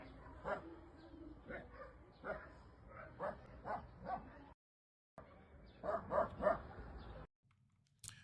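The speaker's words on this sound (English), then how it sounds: "You can hear some dogs briefly barking there" Several dogs bark in short bursts somewhere in Sana'a, Yemen, the yips and barks coming in loose clusters under a background murmur of voices, with brief gaps of near silence between groups.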